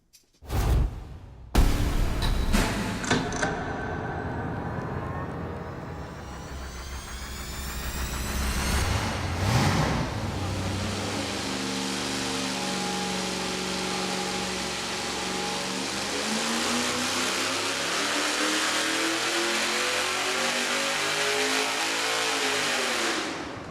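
A V8 engine on a dyno stand fires up with a sharp starter crank, then revs hard and climbs through a long, loud, steady pull that holds to the end, fitted with small exhaust headers for a baseline run.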